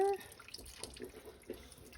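Hot liquid jello is poured from a pot into a 9 by 13 container, a quiet, soft trickling and splashing that stays faint throughout.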